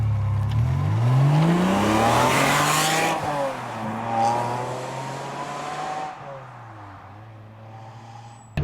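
Ferrari 550 Maranello V12 revving hard through several rising and falling sweeps, loud and close from the cabin, the pitch climbing with each pull before settling back to a steady drone.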